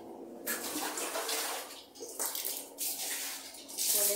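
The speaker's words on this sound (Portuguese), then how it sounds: "Enquanto eu lavo a roupa aqui, né?" Clothes being washed by hand in water, with broad sloshing and splashing that swells and dips in waves, fairly close and moderately loud, with no talking.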